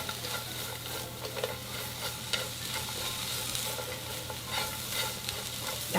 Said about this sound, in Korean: 양파랑 당근이랑 같이 다 넣어주세요. 여기 소금 한 꼬집 넣어서 같이 볶아주세요.